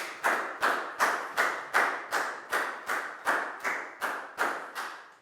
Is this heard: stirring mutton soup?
no